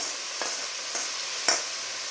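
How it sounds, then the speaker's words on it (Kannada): Okra frying in oil in a pan for an egg masala curry, a steady broad sizzle with three soft scraping stirs spaced about half a second apart, close and alone. "ಬೆಂಡೆಕಾಯಿಗೆ ಸ್ವಲ್ಪ ಎಣ್ಣೆ ಹಾಕಿ ಹುರಿಯೋದ್ರಿಂದ ನೋಡಿ ಅಂಟಿರೋದಿಲ್ಲ, ಚೆನ್ನಾಗಿ ಹುರ್ಕೊಬೇಕು ಬೆಂಡೆಕಾಯಿ"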